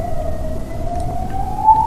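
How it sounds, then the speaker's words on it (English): An emergency vehicle siren wails outside, a steady rising tone heard from some distance, loud and clear with no talk over it. "There's a siren."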